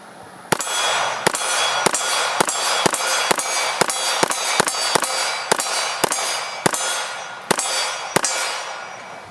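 Smith & Wesson M&P 2.0 Compact pistol fired in a steady string of about fifteen sharp, loud shots at roughly half-second to one-second intervals, each with a ringing tail, and no talking.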